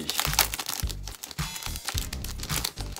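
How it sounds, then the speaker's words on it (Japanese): Packaged postcards from a crowdfunding reward for a Japanese dub of the film Phenomena are unwrapped, with close, loud crinkling and crackling of plastic wrapping in repeated bursts. "こちらも開封していきたいと思います。"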